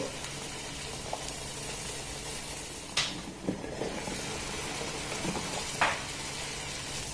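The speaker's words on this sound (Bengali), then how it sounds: "এবার এটাকে ঢাকা দিয়ে গ্যাসের ফ্লেমটাকে লো টু হালকা মিডিয়াম দিয়ে 5 মিনিটের জন্য ফুটিয়ে নেব।" Kala jamun sweets simmering in sugar syrup in a covered pan on a gas flame, giving a steady bubbling hiss with a few brief clicks and knocks.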